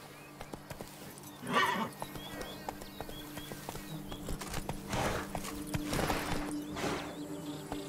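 A horse trots in The Witcher 3, hoofbeats clopping steadily up close with a couple of snorts and a whinny rising over them, plus a faint voice.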